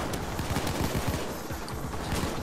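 Gunfire in the video game Payday 2 during a chaotic co-op firefight, heard as dense, rapid overlapping shots that rattle continuously at close range.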